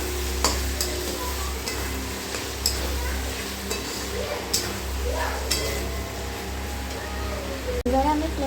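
Garam masala powder being stir-fried in oil for paneer butter masala, a steady sizzle under a person talking, with repeated spoon scrapes and light clinks against the pan.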